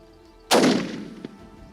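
A single loud rifle shot at a Cape buffalo in a hunting video game, a sharp crack with a reverberant decaying tail and a faint second thump just after.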